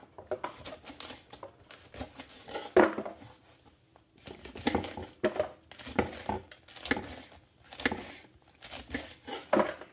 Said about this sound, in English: Get my knife. And cut them.